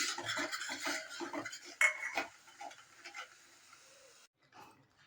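A spoon stirs garam masala into palak paneer in a pan, giving a run of quick scraping and clinking strokes up close that then trail off into quieter, sparse taps, with no talking.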